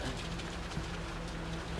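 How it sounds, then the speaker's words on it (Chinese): Rain falls over the sea as a steady, even hiss, moderately faint and continuous through a short moment with no voices. "天上下雨了！"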